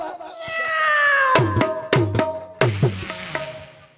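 A cat meows in a long drawn-out, wavering cry that gives way to several sharp thuds or knocks, heard at a rural Odia folk theatre performance with background noise.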